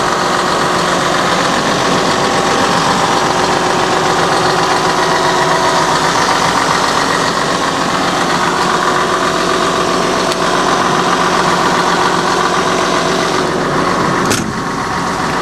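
A Kawasaki 1250 VLC excavator's engine runs steadily with its Kawasaki hydraulic pump, a loud, close, continuous idling drone with a faint knocking vibration and no speech.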